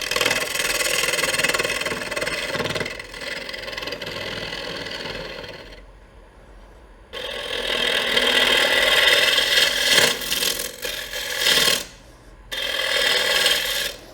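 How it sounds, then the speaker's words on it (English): Wooden bowl spinning on a lathe while its inside is hollowed with a half-inch bowl gouge, bursts of harsh scraping and cutting hiss with brief quieter pauses between passes, close and loud. "we're going to start off hollowing with a 1/2 inch bowl gouge"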